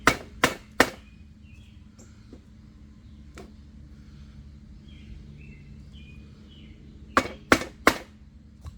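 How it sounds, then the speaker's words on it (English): A Cold Steel SRK San Mai knife with a hollow grind strikes hard wood edge-first: three sharp, loud chopping knocks in quick succession, a faint tap midway through a quiet stretch, then another quick burst of three hard hits. "I'm going to do some pretty hard hits right on the edge here"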